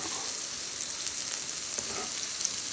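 Food sizzles and fries steadily in a pan over medium heat while being stirred, a continuous close hiss with light scraping and no talk.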